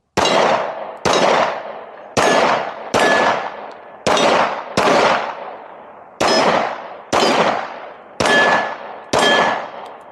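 A Tisas double stack 1911 pistol fires about ten loud, sharp shots, each with a ringing decay, spaced in an uneven cadence with short pauses between groups.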